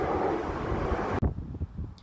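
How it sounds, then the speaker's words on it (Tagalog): Loud, rumbling wind by a river at Glenelg, South Australia buffets the microphone, then cuts off abruptly, leaving quieter gusty thumps. "Ang lakas talaga ng hangin dito sa Glenelg ngayon."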